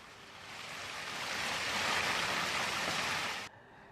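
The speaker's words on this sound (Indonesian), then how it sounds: "hujan deras disertai butiran es kembali terjadi di kota Bandung, Jawa Barat" Heavy rain with hail and wind in a residential complex in Bandung, West Java: a loud, dense broadband roar that swells steadily and then cuts off abruptly near the end, with no voices.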